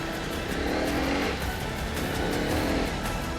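A 2024 KTM Duke 250 motorcycle pulls away in first gear, its engine note steady and close with a rising rev under continuous road and wind noise, no talking.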